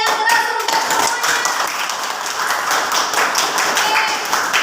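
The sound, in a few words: clapping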